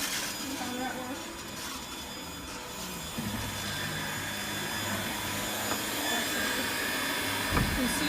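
A Eufy HomeVac lightweight cordless upright vacuum whirs steadily on a hardwood floor, a constant high motor hum with faint knocks and scrapes as it is moved, alongside occasional speech.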